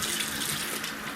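Water from a kitchen tap runs steadily over peppers being rinsed, a continuous close splashing hiss with no talk.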